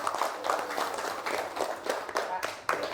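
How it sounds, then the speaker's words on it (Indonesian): An audience at a Pancasila discussion event breaks into steady, dense applause with distinct claps pulsing through. It is moderately quiet and continuous. "Oh, tepuk tangan dong."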